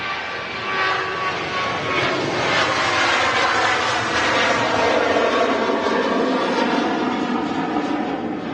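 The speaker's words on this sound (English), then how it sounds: "Mega departure there. Ryanair 737 out to Porto." A Ryanair Boeing 737 departs Manchester Airport, its jet engines making a loud, sustained, broad roar that holds steady throughout with no voices.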